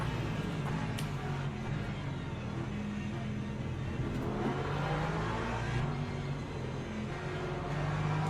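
Race car engines roaring at the green flag in Le Mans Ultimate, a steady loud blend of revving motors with a Mercedes and a Porsche in the pack, sustained throughout without pause.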